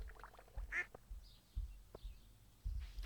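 Ducks quack a few times on a Stardew Valley farm, short nasal calls spaced irregularly at moderate volume over a soft game background and low thumps.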